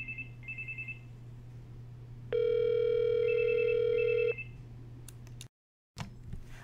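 An intercom call ringing out on a PBX phone system: two short electronic trill bursts, then a longer steady ring tone with trilling on top, followed by a click and brief silence over a constant low hum.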